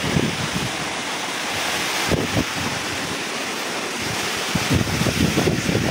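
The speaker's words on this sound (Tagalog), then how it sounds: "Lakas ang hangin." Strong typhoon wind lashing a small island village in Northern Samar, a dense, roaring rush that never lets up, with heavy buffeting gusts that thump the microphone and surf-like surges throughout.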